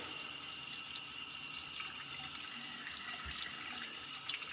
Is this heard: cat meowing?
no